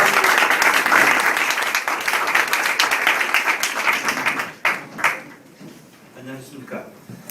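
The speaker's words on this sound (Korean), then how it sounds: "크게 박수로 환영해 주시기 바랍니다." Loud applause welcoming a professor to a liberation theology lecture at a university, dense clapping that carries strongly for about four and a half seconds, then thins and fades out, with a voice entering near the end.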